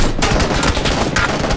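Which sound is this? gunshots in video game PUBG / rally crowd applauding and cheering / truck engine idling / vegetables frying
gunshots in video game PUBG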